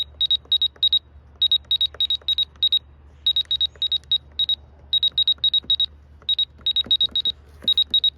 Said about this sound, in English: Those are your invalid button beeps